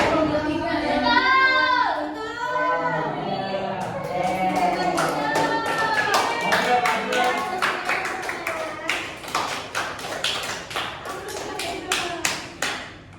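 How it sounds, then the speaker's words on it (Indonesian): A group of children clapping their hands at a school, with a burst of sharp, uneven claps following a stretch of children's and adults' voices, and talk continuing underneath. "Tepuk tangan tuh Cik Olo"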